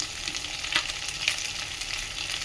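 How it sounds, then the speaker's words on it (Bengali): Mild chillies with ginger and turmeric being stirred and fried in a pan for a yogurt chilli pickle, a steady close sizzle broken by a few sharper scraping stir strokes, with no voices. "লঙ্কাগুলো হালকা নাড়াচাড়া করছি"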